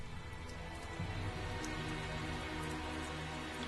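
Rain falling in the video game Tales of Zestiria: a steady hiss of rainfall mixed with soft sustained game music tones, fairly quiet with no talking.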